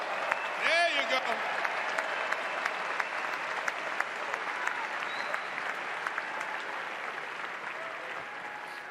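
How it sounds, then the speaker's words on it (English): A large stadium crowd cheers and applauds their parents at a celebration in Ann Arbor for Michigan's national championship, a steady, dense roar of clapping that holds for several seconds. "Give them a round of applause."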